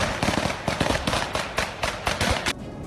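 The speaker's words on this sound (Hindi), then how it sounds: "फायरिंग की ये आवाज बता रही है कि यहाँ जोरदार जंग छिड़ी है" Gunfire from fighting between Russian and Ukrainian troops in a village near Kyiv rings out as a rapid run of about a dozen loud, sharp shots in quick irregular bursts, close by, with no talking.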